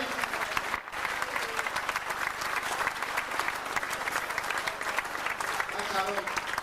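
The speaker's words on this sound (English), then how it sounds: "Would you show your round of applause" Sustained applause from an audience at a celebration event, a dense even clatter of clapping heard at moderate distance with some crowd noise mixed in.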